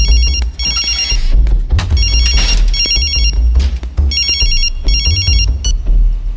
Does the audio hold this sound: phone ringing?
yes